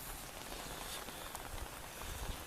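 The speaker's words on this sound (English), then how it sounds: "today you notice it's raining" Soft, steady rain patters on surfaces with a dense, faint hiss and scattered light drops, and no one is talking.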